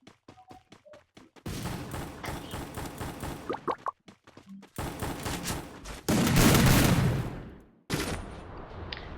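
Gunfire in the mobile battle game Free Fire, with scattered single shots giving way to dense bursts of rapid automatic fire separated by short gaps, loud and close.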